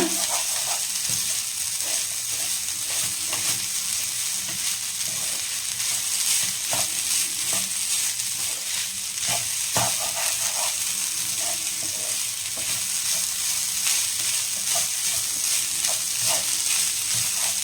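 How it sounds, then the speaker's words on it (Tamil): Grated coconut sautés in ghee in a pan for a traditional village coconut laddu, giving a steady, close, soft crackling sizzle with occasional light scraping and stirring clicks throughout. "இப்போ இந்த கீயில் நல்லா இந்த கோகனட்டை வந்துட்டு சாட்டேஜ் பண்ணிக்கலாங்க"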